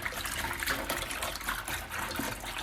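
Water sloshed and swirled by hand in a basin of wash water with product for hand-washing crochet garments, a continuous close splashing and trickling.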